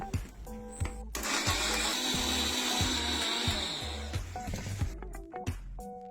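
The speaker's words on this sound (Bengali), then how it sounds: "মশলাটা মিক্সিতে ট্রান্সফার করে তাতে 50 গ্রাম মতো টক দই দিলাম।" A kitchen mixer grinder whirs loudly and steadily, blending a spice paste with about 50 grams of sour yogurt for an egg curry, with motor start and stop thumps at the edges and no talking.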